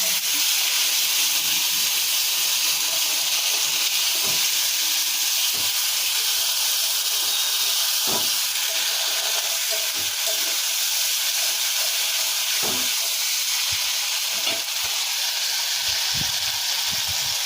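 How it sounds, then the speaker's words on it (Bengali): Spice paste with ginger and tomato frying in hot oil in a pan, a loud, dense, continuous hiss of sizzling with a few soft knocks of a stirring spoon, no talking. "এই যে মশলাটা কষছি, দেখতে থাকুন।"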